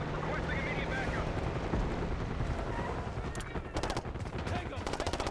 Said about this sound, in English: Got gunfire to the right.